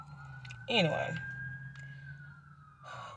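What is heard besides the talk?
ambulance siren passing a parked truck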